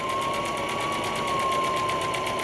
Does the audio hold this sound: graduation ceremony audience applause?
no